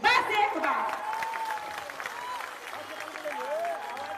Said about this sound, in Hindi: तो हम उन्हें मान से, सम्मान से, आदर से ताली बजा के उन्हें स्वागत करें।